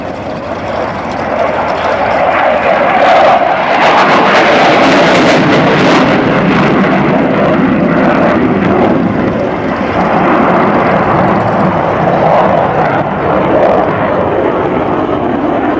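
An F/A-18 Hornet jet roars through a short takeoff and maximum performance climb over an air show field, a loud, sustained, broadband engine rumble filling the whole stretch with steady intensity.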